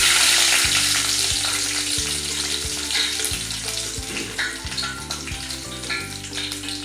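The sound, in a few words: garlic frying in oil with mustard seeds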